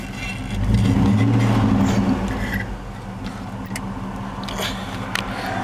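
A car engine starts and its revs are raised, a steady low rumble that swells early and then settles into a sustained idle hum, close by and alone.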